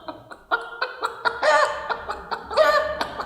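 A man mimics a rooster with a rapid series of clucking, rhythmic throaty pulses building into a louder crowing stretch, close and clear with no other sounds.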